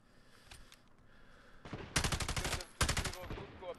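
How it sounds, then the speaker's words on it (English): Rapid automatic gunfire from the Modern Warfare video game, with two loud sustained bursts close up after a quieter stretch, rattling in quick repeated shots. "Just kind of shoot at him, try and keep him in the area."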